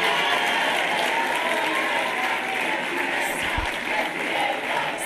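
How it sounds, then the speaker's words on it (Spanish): A crowd at a university student protest, with many people clapping together in a steady, even applause that runs unbroken from start to finish at moderate loudness. "cuando digo Ayuso, oigo aplausos."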